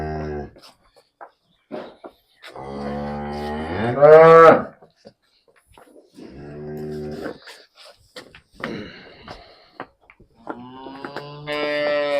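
A young female buffalo on a farm lows several times, close and loud, with long tonal calls separated by pauses and one rising strained bellow.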